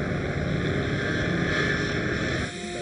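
A Lada race car on a flying lap at a WTCC round in Slovakia, its engine a loud, sustained roar at high revs, dipping slightly near the end.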